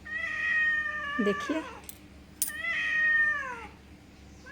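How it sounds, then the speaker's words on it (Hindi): A cat meows twice near the listener, long drawn-out cries with a rising, wavering pitch, outdoors behind a house; someone says a single word between them. "बिल्ली की आवाज़ सुनकर मैं यहाँ पीछे आ गई।"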